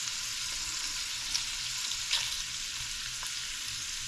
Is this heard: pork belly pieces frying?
yes